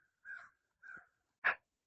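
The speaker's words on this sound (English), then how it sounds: "Yeah, there's a crow." A crow cawing outdoors in snowy surroundings, three harsh caws evenly spaced at a moderate distance, the last one the loudest, with no voices over them.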